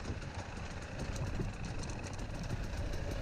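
A dirt bike engine idles without revving during a senior C class cross-country race at Whispering Willow, giving a steady low rumble with a fairly even, continuous level and no throttle surges.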